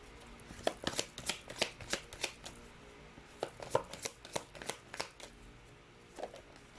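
Tarot cards shuffled during a pick-a-card reading, a string of quick crisp riffling snaps in clustered bursts with short pauses, close and moderately quiet, no talking.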